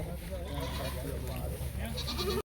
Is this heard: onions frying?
no